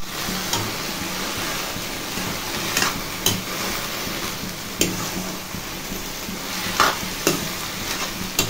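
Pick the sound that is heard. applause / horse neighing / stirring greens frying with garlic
stirring greens frying with garlic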